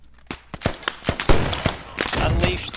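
Gunfire in the military shooter game Squad during a large infantry fight: a ragged run of close, loud shots and bursts at irregular intervals, with busier overlapping fire toward the end.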